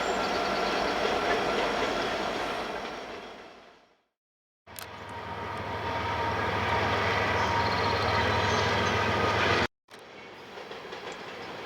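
An empty westbound Norfolk Southern freight train, 51K, rolls past nearby with a steady rumble and rhythmic clatter of wheels over the rails, loud and continuous with two short breaks in the sound.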